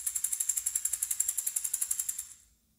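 A small, brightly painted wooden children's maraca is shaken in a steady, fast rhythm of crisp rattling pulses that fade out at the end, close and alone.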